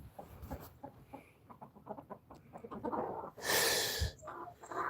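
Black backyard chickens cluck in soft, uneven bursts close by, then a louder hissing rush of noise breaks in before the clucking resumes.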